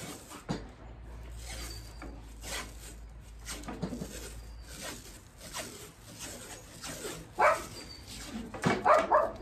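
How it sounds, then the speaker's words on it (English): A dog barks indoors at a house in several scattered bursts, with a louder cluster of sharp barks toward the end amid rustling movement. "Uh-oh, there's a dog."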